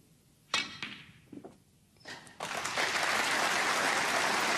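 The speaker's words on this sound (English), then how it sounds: "he gets some applause" Snooker audience applause breaks out in a semifinal match between Judd Trump and Mark Williams at the German Masters, rising from a few scattered claps and knocks into sustained, fairly loud clapping that fills the room.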